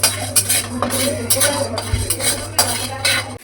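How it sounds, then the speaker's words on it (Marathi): Chana dal roasting in a pan at home while being stirred, with repeated scraping and clinking strokes of a spoon against metal at an uneven rhythm, close and fairly loud over a low steady hum. "त्याचबरोबर आता चणा डाळ भाजते"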